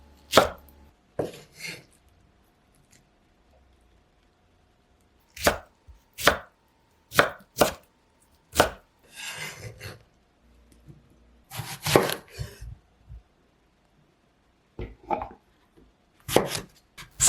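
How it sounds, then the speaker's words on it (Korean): A knife chops through steamed cabbage in short bursts of sharp, crisp strikes, several evenly spaced cuts followed by quiet pauses, close and clear with nothing else heard. "찐 양배추도 먹기 좋게 써세요."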